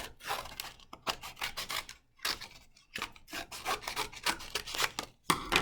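Scissors cutting the excess off a craft piece along a drawn line for a BB8 craft, a rapid series of close, rasping snips broken by brief pauses.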